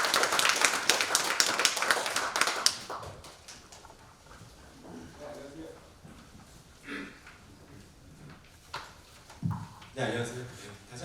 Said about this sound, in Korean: 오늘 강연하실 박한선 교수를 큰 박수로 모시겠습니다